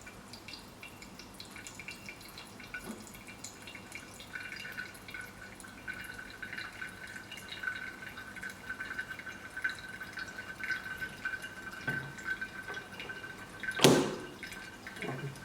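Water poured slowly over ground Ethiopia Sidama coffee in a V60 dripper makes a soft, steady trickle and patter, faint and close, running throughout with a brief louder splash near the end.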